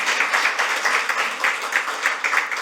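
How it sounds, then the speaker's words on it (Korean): Audience applause welcoming a guest at a legislative debate forum, an even wash of many hands clapping at once, sustained at moderate loudness with a gently pulsing rhythm. "큰 박수 부탁드립니다."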